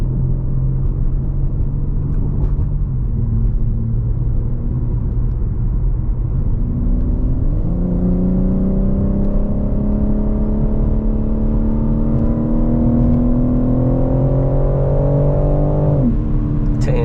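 A BMW M3 engine revs steadily from inside the car while it drives a scenic road, a loud, continuous droning rise through the gears with a brief drop at a shift and a long climbing pull.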